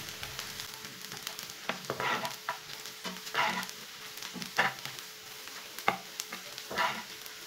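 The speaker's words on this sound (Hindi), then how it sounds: "प्याज को ना बिल्कुल भी जलने नहीं देना, इसे हल्का सा ब्राउन करना है।" Onions frying in a pan toward light brown for an egg curry, a continuous sizzle broken by repeated scraping stirs at irregular intervals, close and moderately loud with no talk.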